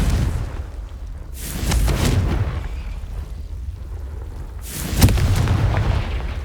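Two heavy blasts of the Confringo fire spell in Hogwarts Legacy boom a few seconds apart, each a loud burst with a rumbling tail over steady game ambience.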